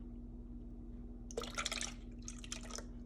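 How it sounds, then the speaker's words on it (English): Whole milk is poured into whisked eggs for a bread pudding custard, making two faint, brief splashing pours with a short gap between them over a low background hum. "to the 2 whisked eggs, we're going to add 2 cups of whole milk"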